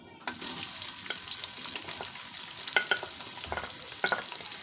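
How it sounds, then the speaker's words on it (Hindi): Onions frying in oil in a pan while being stirred, a steady close sizzle with scattered scraping clinks of the spoon against the pan. "अब हम इन अनियंस को गोल्डन ब्राउन होने तक फ्राई करेंगे।"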